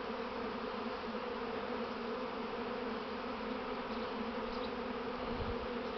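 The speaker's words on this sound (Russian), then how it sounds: "Вот видно, там роек вьется" A swarm of honey bees emerging from a hive fills the air with a dense, steady buzzing drone, continuous and fairly loud throughout with no talking.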